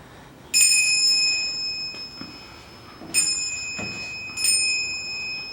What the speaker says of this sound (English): What was that? Sounded like a bell.